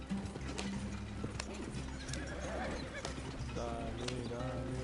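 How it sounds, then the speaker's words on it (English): Horses in the Red Dead Redemption 2 video game, rhythmic clip-clop of hooves at a run with repeated whinnies and neighs, mixed with game sounds and a voice talking over them. "estos caballos no van más rápido"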